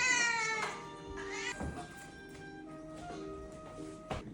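A vaccinated cat meows several times, drawn-out tonal cries with rising and falling pitch, fairly close and clear, with soft tapping sounds in the background.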